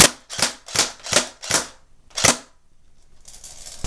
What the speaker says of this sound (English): I'm just going to count to 5 seconds, shooting as fast as it can go